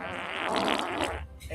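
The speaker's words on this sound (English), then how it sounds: "I farted." A fart, a single buzzy, sputtering blast that runs about a second, close and moderately loud before it trails off.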